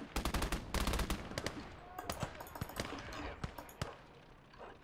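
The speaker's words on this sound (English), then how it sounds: "Another machine gun." Machine gun fire in the Gates of Hell war game, loud rapid bursts of automatic shots with sharp repeated cracks, pausing and resuming across the clip, with scattered single shots and no talk.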